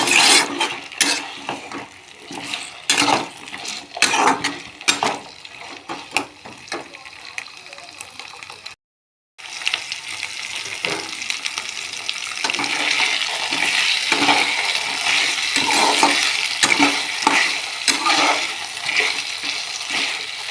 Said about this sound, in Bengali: মশলাটা কষানোর পর কেটে ধুয়ে রাখা আলু দিয়ে দেব আলুটা একটু কষে নেব